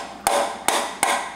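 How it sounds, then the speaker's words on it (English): A hammer strikes a seal puller hooked into the transmission seal of a Turbo Hydramatic 400 automatic transmission: four sharp metallic blows at a steady, fairly quick pace, each clang ringing briefly, close up with no talking. "And then it has a handle, and then you hit it with a hammer."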